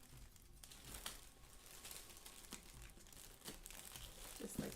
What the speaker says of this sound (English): and tape it down.